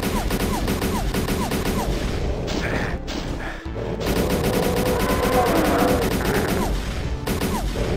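Rapid gunfire from weapons in the first-person shooter Doom 2, loud and continuous with repeated shots and crashing impacts throughout, with a brief dip partway through.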